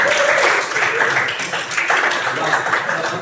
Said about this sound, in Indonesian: beri tepuk tangan kepada Pak Anu